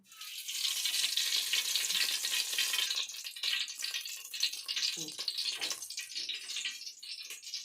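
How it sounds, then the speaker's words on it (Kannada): Loud, steady hiss of hot oil sizzling in a pan for tempering fish curry, continuous and close, softening slightly after a few seconds with small clinks. "ಮೀನು ಸಾರಿಗೆ ಒಗ್ಗರಣೆಗೆ ಎಣ್ಣೆ ಹಾಕ್ತಾಯಿದ್ದೀನಿ"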